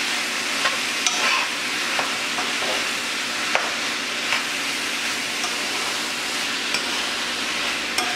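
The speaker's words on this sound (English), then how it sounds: "Put that in there, mix it up. Just mix it with the carrots and the onion." Ground lamb is stirred with carrots and onion in a frying pan, giving a steady close sizzle with a spoon scraping and tapping against the pan at irregular intervals.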